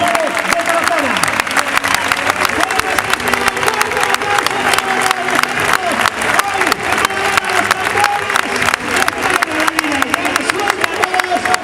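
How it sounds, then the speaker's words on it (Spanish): A large crowd at a Castelló 2017 recortadores contest gives continuous dense applause, with cheering and voices mixed in and tonal background sounds beneath it. "Fuertes y aplausos para Alejandro Coirán de Borja y Mario González de Tarazona."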